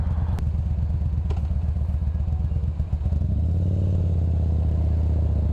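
A nearby motorcycle engine runs with a steady throb and then rises in pitch as the throttle is revved toward the end, loud and continuous.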